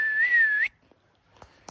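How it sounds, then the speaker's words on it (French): One person gives a single sustained, slightly wavering whistle to call a dog outdoors in the countryside, followed by faint soft clicks and rustles. "Je siffle pour rien."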